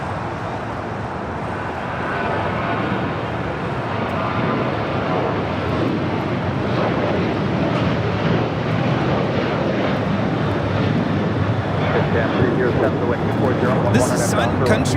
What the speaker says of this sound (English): 424 taking off to Minneapolis on a 737-800.